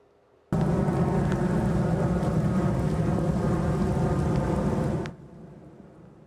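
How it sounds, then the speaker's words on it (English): Light rain falls over Corona del Mar in Southern California on a muggy morning, a steady, dense hiss that starts abruptly, holds evenly for several seconds and then cuts off, with no voices. "You could see light rain falling there."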